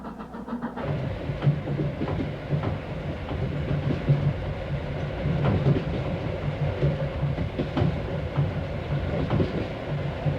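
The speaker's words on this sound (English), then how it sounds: "In this way, the train gradually crosses the mountains." A train crossing the Tian Shan mountains rumbles along steadily with a rhythmic clickety-clack of wheels on the rails, a continuous moderate roar throughout.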